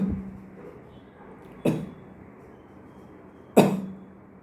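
A voice imitates the minute gun cough of whooping cough: two sharp, single coughs spaced evenly about two seconds apart, with quiet between them.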